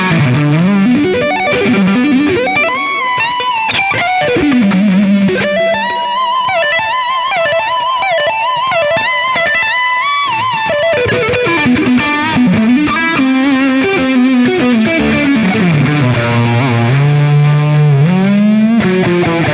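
Electric guitar played through an All Pedal Slamurai overdrive pedal with the drive turned up, giving a loud, continuous distorted tone with sustained chords and sliding lead lines across the whole stretch, no voices.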